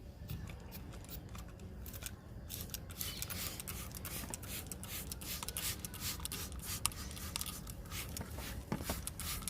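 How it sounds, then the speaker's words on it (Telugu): A hand sprayer mists pesticide liquid onto a mealybug-infested plant, with quiet, rapid trigger clicks and short hissing spurts repeating steadily close by. "ఇప్పుడు స్ప్రే చేస్తున్నాను"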